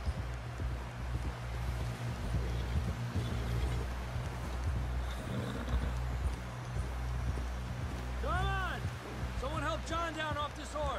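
Horse hooves clip-clopping in the video game Red Dead Redemption 2, a steady rhythmic trot near the listener over a low ambient rumble, with voices talking toward the end.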